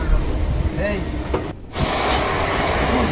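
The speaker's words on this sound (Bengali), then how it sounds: "ট্রেন চলতেছে" Steady low rumble of a moving train on the Dhaka to Kolkata route with broadband rattling noise throughout, a brief dip midway, and faint voices beneath the running sound.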